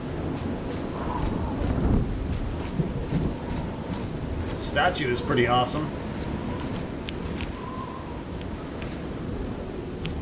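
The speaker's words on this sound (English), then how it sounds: "Still raining" Rain and rumbling thunder in the fantasy video game Oblivion, a steady downpour with a thunder roll while someone talks over it.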